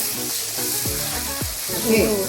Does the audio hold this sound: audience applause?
no